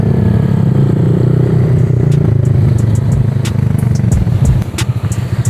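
A Honda Vario 125 scooter fitted with a Nobi Neo exhaust runs close by with a deep, throbbing engine note that wavers and stutters near the end, with light clicks above it.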